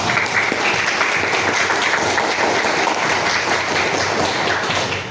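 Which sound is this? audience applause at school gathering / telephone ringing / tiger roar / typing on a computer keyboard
audience applause at school gathering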